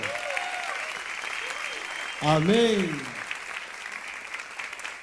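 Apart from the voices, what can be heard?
church congregation applauding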